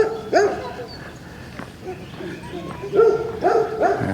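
Dogs at a campground site bark in a few short bursts, a couple of yips at the start and a louder cluster near the end, moderately close, with a voice talking between them.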